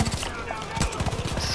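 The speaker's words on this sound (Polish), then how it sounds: "Strzela ktoś do nas." Gunfire in the video game Far Cry 5 aimed at the player, bursts of rapid shots and impacts crackling loudly in quick succession over game noise.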